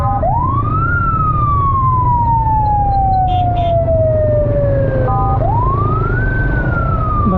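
Ambulance sirens on the GT Road, Pakistan, wail loudly and close, with one long descending sweep followed by a second rising one over a constant rumble of road traffic.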